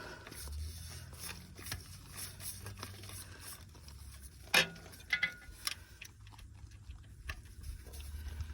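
Faint metallic clicks and scrapes from a wrench loosening the oil cooler fitting on a 5.3L Vortec engine, with a few sharper ticks near the middle over a quiet background.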